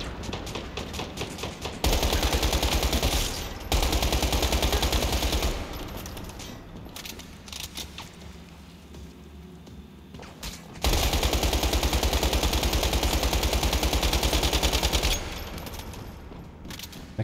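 Rapid automatic turret gunfire in the survival shooter Once Human during a defense mission, sustained loud bursts with short pauses between them.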